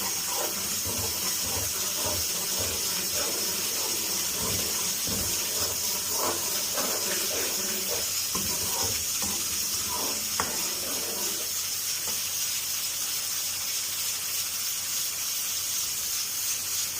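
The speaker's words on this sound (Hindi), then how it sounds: "एक 2 मिनट के लिए दही को पका लेंगे ताकि इसका पानी जो है वो ड्राई हो जाए।" Whisked yogurt sizzles and hisses in a hot pan with spices for rajma curry, a steady loud bubbling crackle that eases toward a softer simmer near the end, no voices.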